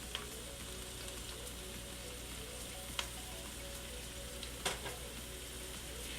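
Chopped carrots, sweet potato and onions cook in a pot for carrot sweet potato soup, giving a steady, even sizzle with faint crackles and an occasional soft tick, close by with no talking.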